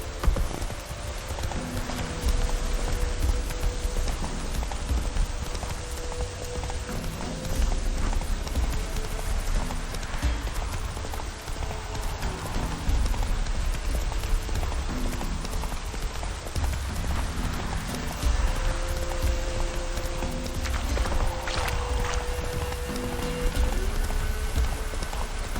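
A horse gallops in The Witcher 3, its hooves clip-clopping in a steady, continuous rhythm over a soft hiss like rain, holding at moderate loudness throughout.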